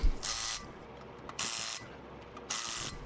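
A ratchet wrench tightens the lug nuts on a car wheel after a brake pad, rotor and wheel speed sensor job, three bursts of rapid close clicking separated by short pauses.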